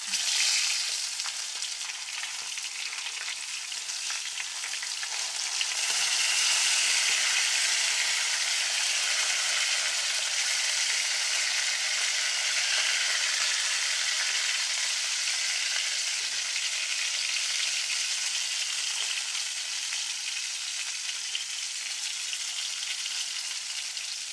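Fish fries in a pan after being turned over, giving a loud, steady sizzle and crackle of hot oil that swells briefly and then holds constant throughout.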